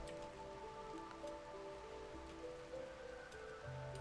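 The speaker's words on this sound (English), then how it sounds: "It's raining." Steady rain falling in the RimWorld video game, a continuous even patter of drops on a surface, moderately quiet with a faint musical drone beneath and no talking.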